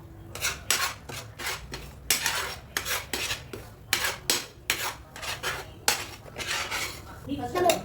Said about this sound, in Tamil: ரவை வந்து லைட்டா ப்ரௌன் ஆற வரைக்கும் நம்ம வறுக்கணும்.